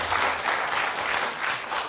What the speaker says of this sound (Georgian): გილოცავთ აპლოდისმენტებს